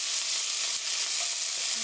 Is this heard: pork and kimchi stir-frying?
yes